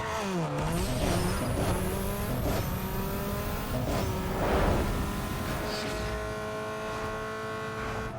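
A Mazda Miata MX-5 1.8L inline-four revving hard through a drag run in Need for Speed Underground 2, the engine note climbing repeatedly with quick drops at gear shifts, loud and continuous with tire noise beneath.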